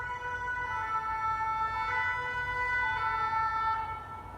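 Sirens wail steadily right outside a building, a continuous tonal rising-and-falling emergency-vehicle call that stays loud and close throughout.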